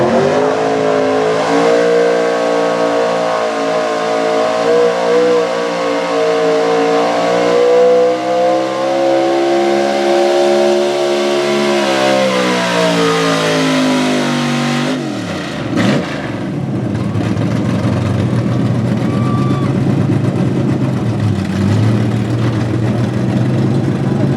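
A 1987 Chevy square-body race truck with an LS small-block engine revs hard and loud, pitch climbing and sagging, then drops abruptly and settles into a rough, throbbing lower idle-like rumble.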